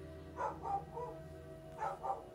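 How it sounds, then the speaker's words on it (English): Dogs bark in two distinct pairs of woofs, moderately distant and not loud, separated by a pause, with quiet background and no talking. "I'm gonna take them dogs barking as confirmation"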